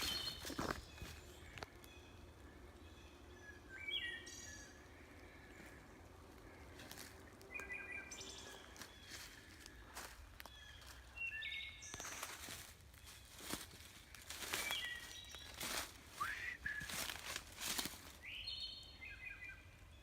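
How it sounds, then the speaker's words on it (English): Fluting wood thrush song phrases repeat at intervals, fairly faint, over crunching footsteps and outdoor background noise. "That is my favorite bird. That's my wood thrush."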